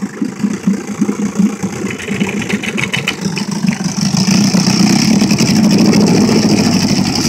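A Johnson 9.5 horsepower outboard motor runs close by with a steady mid-pitched putter, its note shifting and growing slightly louder and smoother as it is put in gear.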